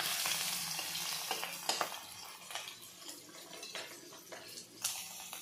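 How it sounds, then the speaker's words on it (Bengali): Dried fish (shutki) frying in hot oil gives a steady close sizzle, with intermittent stirring scrapes and clatters cutting through, and no one speaks. "ওইদিকে আমি শুটকিগুলো ভাজা বসিয়ে দিয়েছি"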